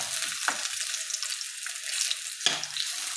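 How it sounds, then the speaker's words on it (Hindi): Homemade potato chips fry in a pan of oil with a steady, close, bright hiss, broken by two sharp utensil clicks. "आलू के चिप्स बना के पहले ऐड करेंगे और फिर उसको अच्छे से उसमें अलग अलग कर देंगे"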